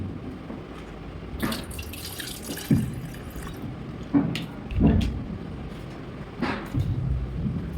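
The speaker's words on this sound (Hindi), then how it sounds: "पानी अब डाल देता हूँ इसमें" Water goes into an electric kettle with irregular splashes and gurgling spurts over a steady wet hiss, close by and moderately loud.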